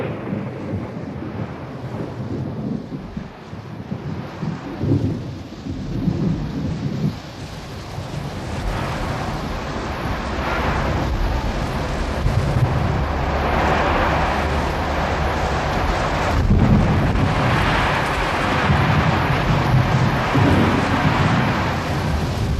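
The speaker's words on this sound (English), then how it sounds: "And all of a sudden, the storm broke directly over us." A thunderstorm breaks over the Grand Canyon, with rolling thunder and heavy wind-driven rain swelling into a loud, continuous roar.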